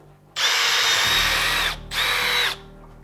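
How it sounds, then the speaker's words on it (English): A power drill bites into an aluminum car hood in two loud, sustained bursts of high whine, separated by a brief pause, close to the listener. "We are drilling it for real now."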